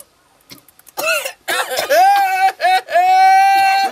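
A person coughs and clears their throat in rough, close bursts, then lets out drawn-out, strained voiced groans that stay loud near the end.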